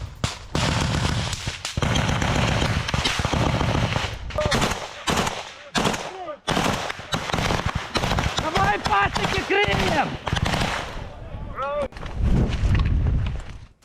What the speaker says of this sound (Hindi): बाखमुट में भी आमने सामने की जंग जारी है, जहां यूक्रेनी फौज की अंधाधुंध फायरिंग की तस्वीरें देखिए